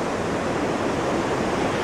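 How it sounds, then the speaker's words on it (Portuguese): Rushing water at the top of Cachoeira do Mutum, a rocky waterfall in Amazonas, forms a steady, loud broadband roar that fills the whole clip with no voices. "E aqui é a parte de cima da cachoeira."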